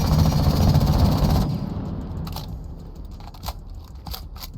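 Rifle with a muzzle brake firing in Rainbow Six Siege: a dense rapid automatic burst for over a second, then a few sparse sharp shots and clicks, fairly loud with no voices.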